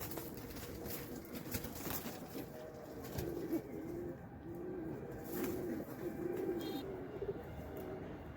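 A brooding female pigeon sitting on eggs coos in soft repeated low phrases, nearby but faint, over a quiet background with a few small clicks.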